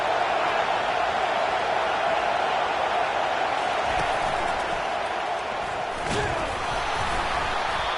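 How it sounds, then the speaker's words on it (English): Stadium crowd noise in the College Football 25 video game, a steady dense roar rising behind the defense on third down, with a brief sharp impact near the end; loud and continuous, with no clear talk over it. "Decibels rising as the crowd gets behind this defense on third down"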